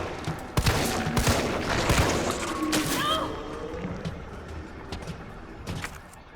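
Gunfire from the video game Resident Evil 3 Remake comes as a burst of loud, close shots and impacts in the first few seconds, then fades into quieter game noise with a brief spoken word.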